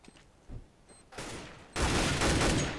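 Gunfire in a Counter-Strike match on de_dust2, heard as a few sharp bursts that swell into dense, loud rifle fire near the end, with no talk over it.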